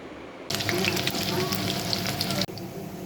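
Sliced onions frying in oil into golden-brown birista for a pressure-cooker biryani, a loud steady sizzle that bursts in after a quiet start, with stirring crackles and a brief drop near the end.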